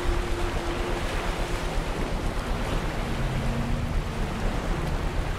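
Waterfall in the video game Among the Sleep: a dense, steady roar of rushing water fills the scene at constant loudness, with a faint low tonal hum beneath it.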